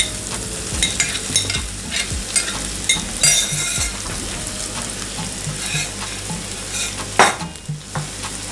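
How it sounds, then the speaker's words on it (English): Shrimp sautéing with translucent onion in a pan on the stove, giving a steady close sizzle broken by the scrape and clink of a utensil stirring. "I'm going to add my shrimp and saute that"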